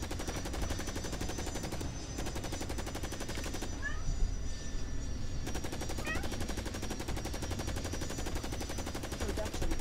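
Rapid automatic gunfire in the game Carrier Command: Gaea Mission, a dense continuous rattle of shots that briefly thins twice before resuming at full intensity.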